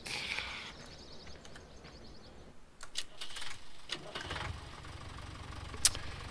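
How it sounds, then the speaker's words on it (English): A tractor engine idles in the farming game Farming Simulator 17, a steady mid-pitched rumble with light clicking and knocking, joined by a few sharp clunks and brief bursts of mechanical noise. "Alright, we'll take the tractor back."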